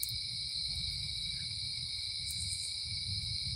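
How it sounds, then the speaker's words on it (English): Frogs by a creek keep up a steady, continuous high trilling chorus, fairly faint, with a low rumbling background beneath it and no talking. "I can hear the frogs over down this poison creek over there"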